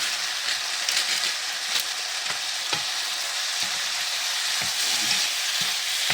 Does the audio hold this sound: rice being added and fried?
yes